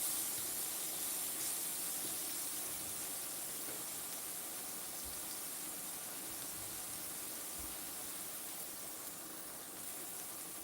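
Pineapple frying in a pan that will later grill a burrito, a steady close hissing sizzle holding evenly throughout with no voices.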